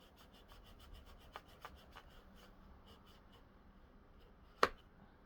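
Faint scrubbing strokes as dirt is rubbed off the brushroll of a WindTunnel Air Cordless vacuum, a soft intermittent rasp ending with one sharp click near the end.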